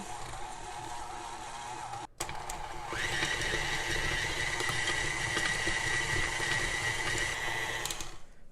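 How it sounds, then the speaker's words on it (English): An electric hand mixer creaming butter and sugar for Crumbl-style raspberry cheesecake cookie dough, a steady whirring motor drone that briefly stops, then restarts and rises in pitch, running continuously and close. "We're going to mix this together, cream it till it's nice"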